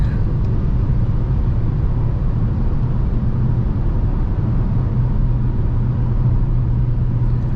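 Renault Captur E-Tech 145 full hybrid, a 2023 model, driving at night in sport mode: a loud, steady low engine drone and road rumble fill the cabin continuously throughout.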